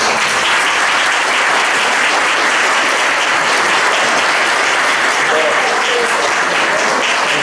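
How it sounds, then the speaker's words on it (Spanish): A seminar audience applauds a speaker at a Spanish-language science talk, dense steady clapping filling the room at an even loudness throughout, with no voices over it. "Y un aplauso para Nico."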